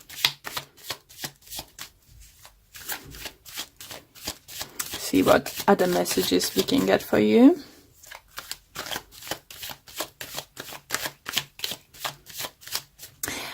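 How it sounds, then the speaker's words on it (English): Tarot cards are shuffled close up in quick repeated riffling bursts, a rapid rhythmic flutter of card slaps running throughout, with a person talking over part of it. "let's pull a few additional cards."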